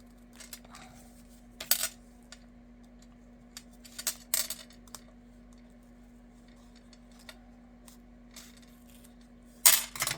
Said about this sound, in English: Now I'm just going to snip these at an angle